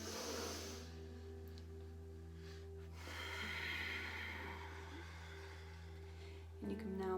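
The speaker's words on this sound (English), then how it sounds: "We'll take one last breath." One deep breath during a meditation workshop, a long, quiet airy inhale and release heard up close over a steady low hum, with a brief rustle near the end.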